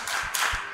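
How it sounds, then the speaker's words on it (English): A group of children at a Missionary Childhood Association talent show gives a short, rhythmic patterned clap, a few quick close claps in under a second. "Let us give them the MCA clap"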